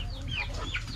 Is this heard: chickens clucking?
yes